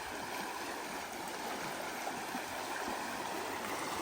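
Strong, fast-flowing stream water, slightly murky, rushing in a steady broadband wash with no pauses, close and fairly loud throughout.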